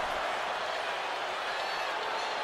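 Steady, dense roar of an arena crowd in the wrestling video game WWE 2K25, a continuous wash of cheering noise filling the whole stretch with no clear breaks.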